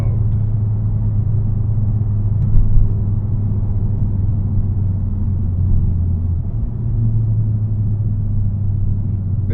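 Volkswagen Mk6 Golf GTI with DSG gearbox driven in sport mode, a steady close engine drone holding high revs with a slight dip and shift change partway through, no talking.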